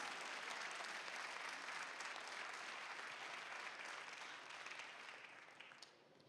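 A church congregation claps loudly in praise of the King of Kings during a Spanish-language service, with thick continuous applause that gradually fades toward the end.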